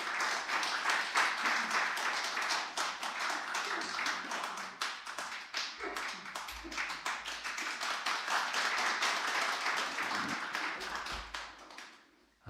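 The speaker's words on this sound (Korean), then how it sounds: "우리 목사님 앞으로 모실 때 우리 큰 박수로 환영해 주시기 바랍니다." A church congregation at a Wednesday worship service claps warmly to welcome a missionary pastor, a sustained roomful of hands with sharp individual claps audible, holding steady before fading out near the end.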